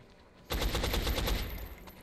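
A sudden automatic burst of gunfire in XCOM: Enemy Unknown erupts after a brief quiet lead-in, a rapid string of close, loud shots that rattles on for about a second and a half.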